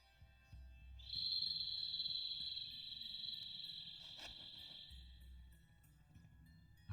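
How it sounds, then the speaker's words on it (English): A bird calls in a video game desert setting, one sustained, close, high whistling note held for several seconds over a quiet ambient background. "A bird. It sounds close."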